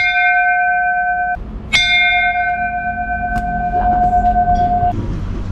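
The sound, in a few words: antique ship bell of the SS Verbena ringing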